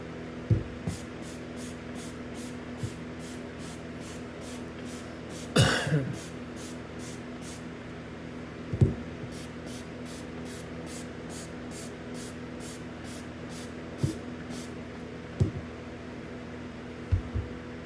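Rapid runs of short hissing spray squirts from a trigger bottle of Spectre cleaner onto an oiled air filter, repeated in quick bursts, with a few soft thumps and handling knocks between them.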